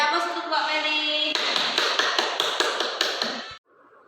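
Classroom audience applauding, a burst of many hands clapping close by, rising in density and then cutting off abruptly, followed by faint background sound.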